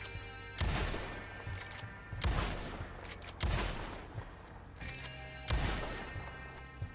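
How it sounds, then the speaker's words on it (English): An Evans Repeater rifle in a video game fires four loud, sharp, booming shots about a second apart, each trailing into a reverberant echo, with faint mechanical clicks of the lever action between shots. "So the Evans sounds very distinct, and the distinct reload sound."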